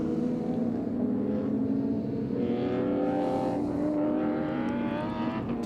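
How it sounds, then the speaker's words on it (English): Group A and C heritage touring cars race at Winton, a BMW among them, with several engines droning together at steady high revs, loud and close throughout, harmonics shifting as they change gear. "Cutler trying to reel in that BMW of David Toe"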